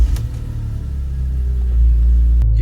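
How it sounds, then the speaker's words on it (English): A 2004 BMW E46 M3 engine idles and runs after starting, producing a deep, steady low rumble that swells slightly toward the end, close up, with a short click near the finish. "I always prefer to start the engine for this process"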